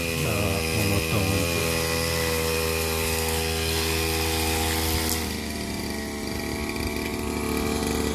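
A powered grass cutter runs steadily in a home garden, a loud continuous motor whine with a strong harmonic buzz that shifts pitch slightly partway through as it bites into the grass.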